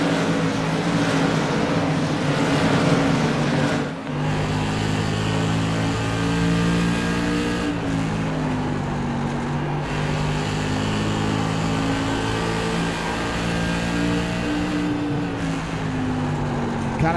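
A race car engine in a sim racing game at Oxford Plains drones loudly and continuously, its pitch dipping briefly as the throttle lifts into corners, then climbing again as power comes back on.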